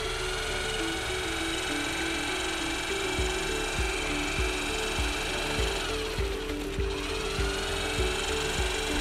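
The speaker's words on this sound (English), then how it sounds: "Mix it using a low-speed mechanical mixer." A low-speed mechanical mixer churns Sikalastic-1 KMY fiber-reinforced waterproofing into water, producing a loud, steady motor drone with rhythmic knocking and scraping from the paddle in the bucket throughout.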